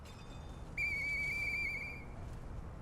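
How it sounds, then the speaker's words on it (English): A whistle blown in the video game Lies of P: a clear, sustained high tone lasting just over a second, rising abruptly out of quiet game ambience and then stopping. "I just realized that I can use this whistle, so I think I'm gonna try to do that."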